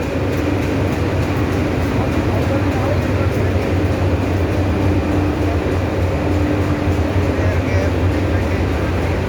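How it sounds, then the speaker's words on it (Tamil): Station ambience at Chennai Central railway station around the Tamil Nadu Express, a steady loud rumble of train and platform noise with continuous low hum and people talking throughout. "மினிட்ல Tamil Nadu express new Delhi legendary train."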